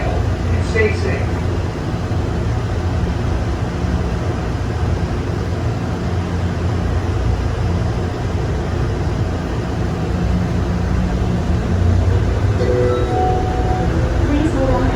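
Hartsfield-Jackson Atlanta International Airport Plane Train people mover in night service mode hums and rumbles steadily as it slows to a stop, a constant mechanical drone with faint chimes, while an automated voice speaks over it.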